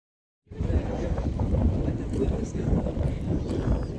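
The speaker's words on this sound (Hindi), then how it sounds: "रात से ही अच्छी हवा चल रही है" Strong wind blowing outdoors in Madinah, a loud continuous rumbling gust that buffets the microphone, starting abruptly after a short silence and holding steady to the end.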